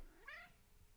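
A pet cat lets out a single clear, close meow lasting under a second in a quiet room, with no voices over it.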